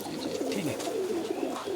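Pigeons coo in a low, rolling murmur close by at a fancier's loft of prized pigeons, with several soft overlapping calls running steadily throughout.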